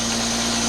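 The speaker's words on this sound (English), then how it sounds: "See, it's idling good right now" A BMW motorcycle engine idles steadily, close and loud, a continuous humming drone with a constant tonal note and no talk over it.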